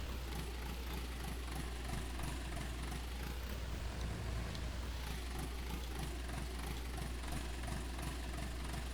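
A tractor engine in Farming Simulator 19 drones steadily while plowing a field, a loud, constant low rumble with vibration and no speech.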